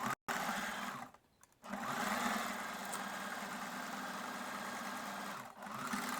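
A sewing machine stitches a clasp onto a bra, running in a loud, steady whir that drops out briefly near the start and again for a moment toward the end.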